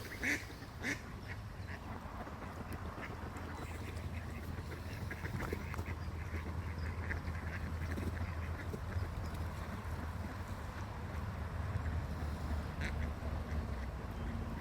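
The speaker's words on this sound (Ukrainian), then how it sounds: "А там далі качка." A duck quacks a few times at a distance on the grounds of the Kvitka Polonyny sanatorium, over a steady outdoor rumble, with scattered faint calls throughout.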